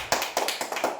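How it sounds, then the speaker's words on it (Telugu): Short burst of light, uneven clapping from a few schoolchildren in a classroom during a letter-matching game, four or five soft claps spaced out over about a second, near and fairly quiet. "క్లాప్స్ ఇవ్వండి మేధాకి"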